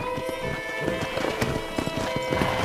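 Horse hooves clip-clop in a steady, fairly loud rhythm on a ranch in a video game played on Xbox One S, with the hoofbeats close and continuous throughout.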